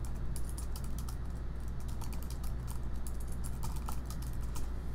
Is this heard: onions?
no